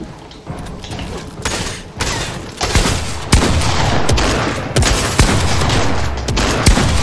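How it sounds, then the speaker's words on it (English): Shotgun blasts in the Fortnite video game, several loud sharp shots spread irregularly through a busy, dense stretch of in-game gunfire and thuds, with no talk. "that guy with shotgun shot trash"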